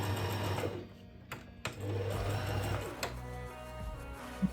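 A sewing machine stitches a leather trench coat, running in a steady, fairly soft whir with a couple of brief pauses and changes of pace.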